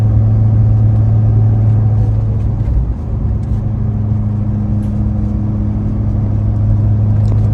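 A 2018 Ford F350 with compound turbos cruises with the windows up, giving a steady low engine drone and road rumble that holds evenly throughout, close and loud.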